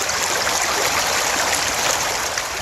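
Water of Eagle Creek in Savage flowing during a blizzard: a loud, close, steady broadband rush and gurgle of moving water that stays constant throughout, with no speech.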